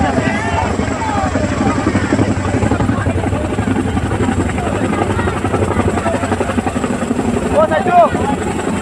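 A Chinook helicopter flies over Haflong, Assam, its loud, steady rotor beat pulsing throughout while people talk underneath.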